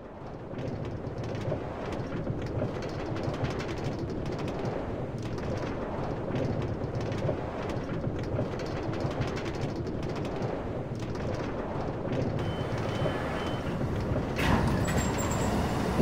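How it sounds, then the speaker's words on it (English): New York City subway 4 train running toward Woodlawn in the Bronx, a steady loud rumble of wheels and motor under a constant broadband roar, with a brief brighter squeal near the end. "This is the train to Woodlawn."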